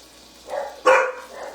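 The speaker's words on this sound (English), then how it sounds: "the dogs came out next door" A dog barks a few times, one sharp loud bark standing out between softer ones, heard from a short distance with no talking.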